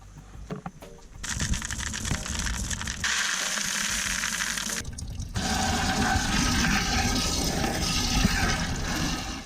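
Water pouring from a tap into a bucket, a loud, steady rushing splash close by that shifts in tone partway through as the bucket fills, with some clunks of handling at the start.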